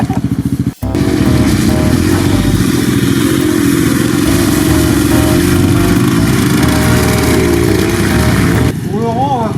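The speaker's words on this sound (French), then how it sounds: "Le démarreur électrique." An off-road motorcycle on a muddy outing fires up on its electric starter after a brief crank, then settles into a loud, steady, close idle for several seconds before cutting off near the end.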